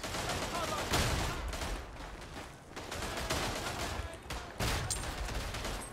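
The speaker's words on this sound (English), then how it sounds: "Oh shoot, that's a grenade!" Continuous rattling rifle and machine-gun fire with dull explosive thuds, including a grenade blast, fill a World War I trench battle in the video game Verdun, dense and fairly distant-sounding throughout.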